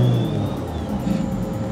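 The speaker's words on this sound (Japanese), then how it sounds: "スロットル煽ったらちゃんと音するんですね" Synthesized engine note from an electric Toyota AE86 conversion, played through its muffler as the throttle is blipped with the clutch in, rising and settling into a steady, close, fairly loud hum.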